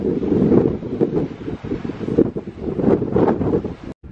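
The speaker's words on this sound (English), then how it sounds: "it is so windy now because we're closer to the water" Strong wind buffets the microphone on the open deck of the Carnival Mardi Gras cruise ship near the ocean, a loud, rumbling, uneven rush with gusts rising and falling throughout and no talking.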